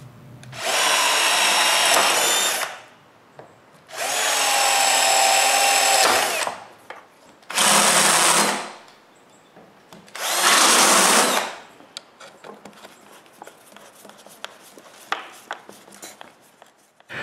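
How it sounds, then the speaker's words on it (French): A power drill drives screws into wood to secure a guide for a Festool track rail. It gives four loud whirring bursts of one to two seconds each, with quieter clicks and handling noise in between, close up and with no voices. "puis visser le premier côté en place"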